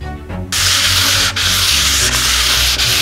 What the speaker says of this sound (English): Wet sanding is a lot of work, but it is extremely satisfying.